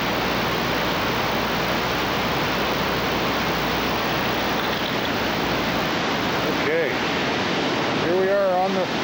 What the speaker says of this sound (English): Look at massive water flow. Oh, bubbling, churning, something else.